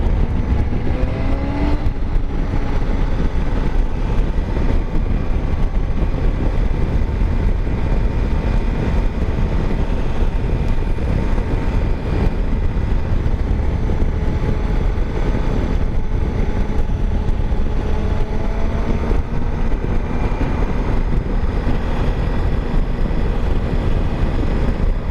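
A 2016 Suzuki V-Strom 1000 motorcycle engine pulls steadily under acceleration, a loud continuous drone with shifting pitch and wind rush that runs unbroken for the full stretch, with no talk over it.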